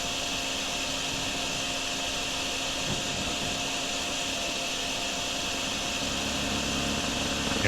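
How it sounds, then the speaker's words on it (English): A steady, loud mechanical whoosh of a vacuum sucking up standing water in the drainage game DrainSim, droning continuously with no break and no talking. "it might be better off just vacuuming this out"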